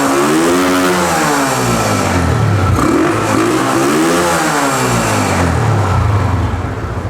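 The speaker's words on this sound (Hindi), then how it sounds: "तो अभी अगर मैं रेस लेता हूँ मोटरसाइकिल को तो इसकी आवाज़ भी थोड़ी भारी हो चुकी है" Motorcycle engine fitted with a Mini 125 aftermarket air filter revs up and down repeatedly, loud and close, with a deepened, throaty note throughout and no talking.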